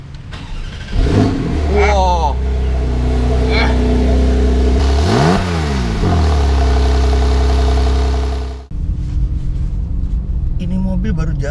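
A new Porsche 911 GTS with only about 600 km on it, revved while braked and stationary: loud engine rumble climbing and falling in repeated sweeping revs before dropping back to idle, with a brief exclamation over it.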